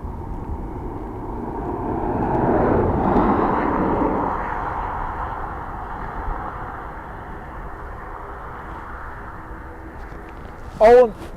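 Loganair ATR turboprop at Dublin Airport, a steady broad engine drone that swells for a few seconds early on and then holds at a moderate distance, with a brief sharp burst near the end.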